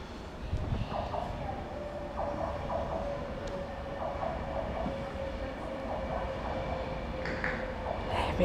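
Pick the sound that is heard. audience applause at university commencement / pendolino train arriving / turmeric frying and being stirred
pendolino train arriving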